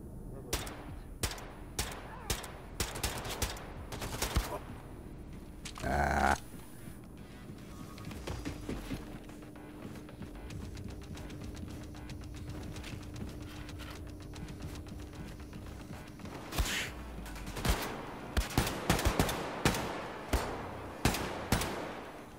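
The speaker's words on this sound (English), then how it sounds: "That's some mighty fine shooting there." Gunfire in Wolfenstein II: The New Colossus on Xbox One, a run of sharp shots and short bursts spread across the stretch, with one heavier blast near the start and a dense cluster of shots toward the end, over steady game ambience.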